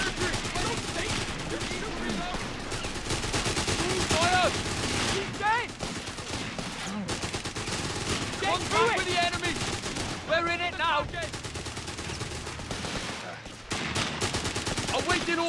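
Battlefield gunfire in the video game Company of Heroes 3, with rapid rifle and machine-gun bursts crackling continuously under shouted soldier voices and game chatter.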